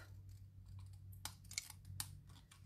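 Scissors snip through card stock during card making, a few sharp, close cuts in quick succession against a quiet background.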